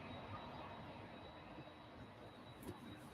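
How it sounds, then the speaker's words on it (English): A TUI airliner departs Birmingham Airport for Lanzarote, heard as a faint, distant, steady jet roar with no voices. "that's the TUI going out now to Lanzarote."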